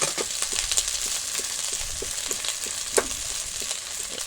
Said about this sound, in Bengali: ভালো করে নাড়িয়ে নেব, ভালো করে কষতে হবে জলটা বেরোনো না পর্যন্ত